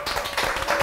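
A studio audience at a National Assembly TV lecture show claps in a short burst of dense, overlapping hand claps, close and fairly loud.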